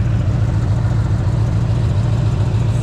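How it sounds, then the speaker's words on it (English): A 1973 Corvette engine idling steadily with a deep, throbbing exhaust rumble, close and loud, unchanging throughout with no voices. "It sounds so much better with the exhaust gaskets on."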